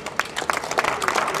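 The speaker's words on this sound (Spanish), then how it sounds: "Aplauso para la delegación de Chile" A crowd in a stadium claps for the Chile delegation at the opening ceremony of a para athletics open in Lima, with scattered, moderately loud applause and a few sharper individual claps.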